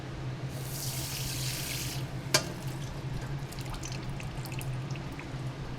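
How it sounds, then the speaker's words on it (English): Water runs from a kitchen tap to refill a pot, a steady hissing gush that stops after about two seconds, followed by a single sharp clink and then quiet room noise. "And refill with more water."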